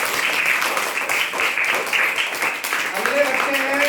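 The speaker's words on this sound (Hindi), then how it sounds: "ठीक जोरदार तालियां बेटे।" Applause for students at a yoga training certificate ceremony at a school in Prayagraj, a sustained burst of many hands clapping with a voice speaking near the end.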